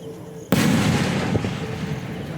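A Kwiton firecracker goes off with one sudden, very loud blast after half a second of quiet, followed by a long rumbling roar and crackling echo that slowly fades out, heard from close by outdoors.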